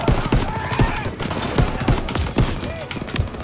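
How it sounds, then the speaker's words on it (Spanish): Gunfire rings out in a World War II Call of Duty battle as rapid shots crack repeatedly at the player, sharp bursts spaced irregularly over several seconds, with a voice speaking now and then. "¿Dónde me disparan?"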